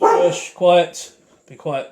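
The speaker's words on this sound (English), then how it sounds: "That's my dog." A dog barks in short bursts close by, while a person speaks over and between the barks.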